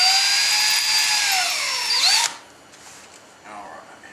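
Power drill spinning a chamfering tool into aluminum stock during gunstock fitting on a 1906 rifle project, a high whining cut lasting about two seconds that sags in pitch before stopping, followed by quiet handling noises.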